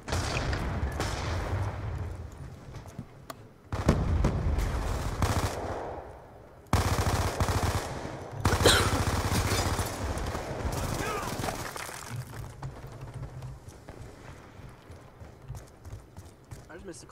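Rapid bursts of light machine gun fire in a multiplayer shooter video game, loud and dense, with several pauses and restarts across the stretch while players talk over the gunfire.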